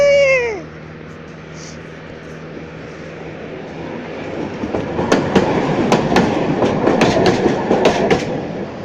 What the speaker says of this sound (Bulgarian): това не е влак, това е трамвай, бат. И ми мина, в смисъл до мене мина